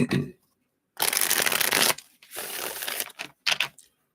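Tarot cards are shuffled close up in quick riffling bursts, two longer runs and a short final flutter, with brief pauses between.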